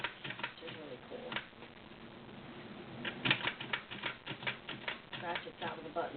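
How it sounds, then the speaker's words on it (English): Brother model 2010 sewing machine buttonholer attachment ratcheting: a rapid run of close mechanical clicks and taps, with a voice talking throughout. "Ratchets out of the buttonholer."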